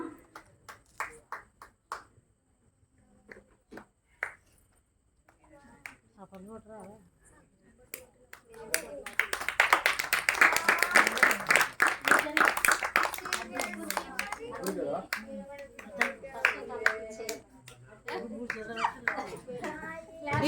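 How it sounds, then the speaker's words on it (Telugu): An audience at a children's Vacation Bible School celebration claps: scattered claps and snaps at first, then a loud burst of applause from many hands in the middle. An adult and children talk before, during and after it. "వీళ్ళకి ఒకసారి గట్టిగా క్లాప్స్ చేద్దాం"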